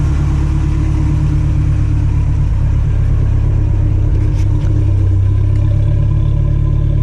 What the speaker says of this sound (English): Let you listen to the exhaust a little bit with that header.